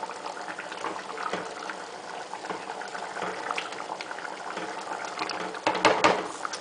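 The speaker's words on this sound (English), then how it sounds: "I'm going to stir it and clean the sides off." A pot of Persian yellow split pea stew with dried plums bubbles at a steady simmer, broken by soft scraping and wet sloshing as a spoon stirs and cleans the sides, close up with a busier stir near the end.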